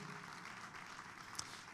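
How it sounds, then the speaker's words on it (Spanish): A church congregation's applause of praise forms a very faint, continuous wash of clapping heard at a distance, with no distinct individual claps, lasting under two seconds. "Fuerte ese aplauso de alabanza al Señor"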